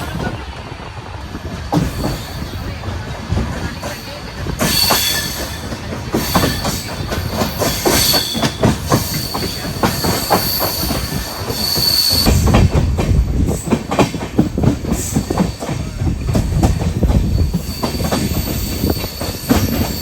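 A goods train made up of BCNHL wagons rolls past close by, with a steady clickety-clack of wheels over rail joints and occasional high wheel squeals, growing louder toward the end.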